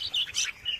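Young birds at a bird farm chirp in quick, high, close tweets, several short calls overlapping in a brief burst with no voices.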